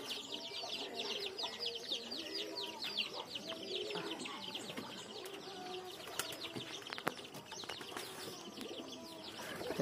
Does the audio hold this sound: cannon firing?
no